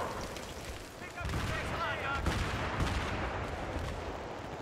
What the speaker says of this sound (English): They're using mortar, so gotta be careful.